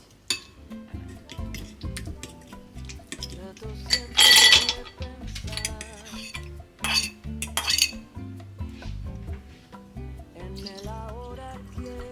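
Raspberries being mashed with honey into a puree, giving clinks and scrapes of a utensil against a bowl that come in bursts, with a louder clatter in the middle, under steady background music.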